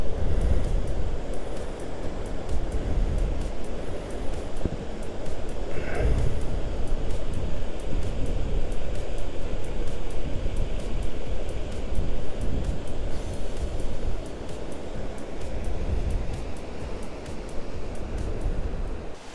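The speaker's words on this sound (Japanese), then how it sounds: "滝がバックにあるんですけど、" Continuous rushing water of a waterfall by a mountain forest-road tunnel in Japan roars steadily, a broad loud wash of noise, with no pauses throughout.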